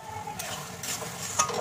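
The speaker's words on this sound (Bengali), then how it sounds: "দিয়ে মশলাটাকে এবার কষাবো ভালো করে।" Spice paste of garlic, ginger and green chilli with a splash of water being stirred and fried in a pot, giving a soft sizzle with a few scraping stirs of the spoon, close and steady.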